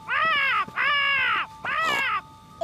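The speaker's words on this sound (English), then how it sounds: "Oh, it's just a crow." A crow caws three times in a row, loud and close, each a long harsh drawn-out call with short gaps between, heard alone.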